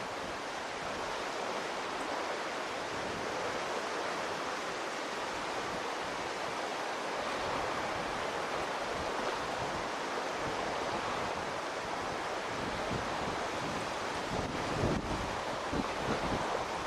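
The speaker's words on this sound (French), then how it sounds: "Vous pouvez écouter les vagues, les oiseaux, les chants, sont agréables qui vous détendent, le vent." Continuous roar of ocean surf blended with wind, a steady broadband wash with no voices, rising slightly in the final seconds.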